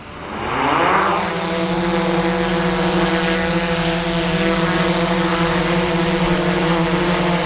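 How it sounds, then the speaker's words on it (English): A drone holds position in a steady hover, its motors spinning up into a loud, continuous propeller buzz with layered harmonics that stays constant after a brief rise, with no talking. "See, I'm not giving any input to the drone, and it's holding its position perfectly right there."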